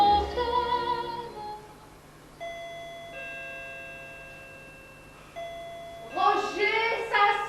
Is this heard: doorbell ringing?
yes